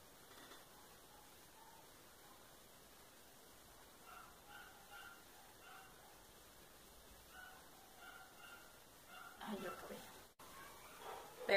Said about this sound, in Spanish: que ladran unos perros, pero es que el vecino tiene perros y los perros son bien escandalosos.